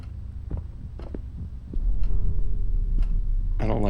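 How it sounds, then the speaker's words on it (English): A character's heart pounds in the horror video game Song of Horror, a steady series of low dull thumps about once a second, swelling in intensity over a droning hum, with a brief tonal sting at the end. "Why is his heart beating?"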